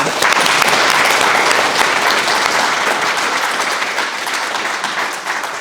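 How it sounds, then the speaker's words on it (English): An audience applauds steadily for volunteers at a foundation's annual gathering, a dense wash of clapping that stays loud throughout and eases only slightly toward the end. "just a round of applause to all the people who help us out"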